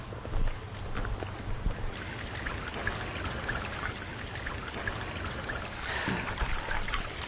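A restored stream at Donaldson Run washes steadily over rocks near a stream crossing that replaced a bridge, a continuous close rushing and trickling of water with no voices.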